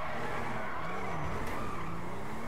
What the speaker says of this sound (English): How long is this thing gonna drift for?